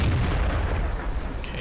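A single booming tank cannon blast in the World of Tanks video game, near and loud, with a broad rumbling tail that fills the short moment, no talking over it.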